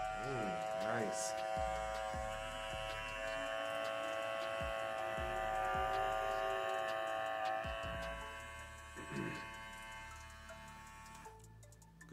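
An Andis Gold Edition Master cordless hair clipper runs with a steady, close electric buzz throughout, holding an even level before easing slightly near the end, with occasional ticking knocks and faint talk in the background.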